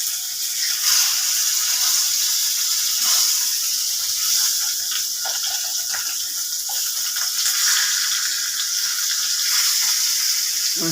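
Mouri rui fish sizzling as it fries in a pan, a steady bright hiss and spatter of oil running throughout with small crackles, close and continuous with no voices.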